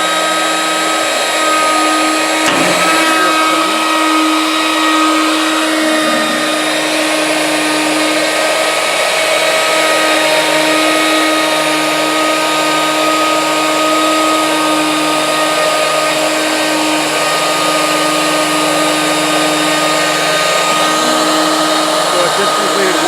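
A CNC router mills an outside profile pass, giving off a loud, continuous high whine with a steady tone from start to finish and no pauses.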